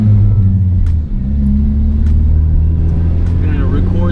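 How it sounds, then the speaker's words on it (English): Ford Mustang EcoBoost S550 running E30 fuel, a steady low engine rumble with strong low harmonics, loud and close, as the car pulls under acceleration. "We got E30 in the car. We about to do a pull here."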